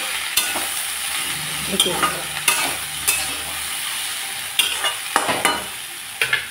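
Greens being stirred in a hot pan with turmeric and salt, a constant sizzle broken by repeated scraping knocks of the spatula against the pan, close and clear with no voices.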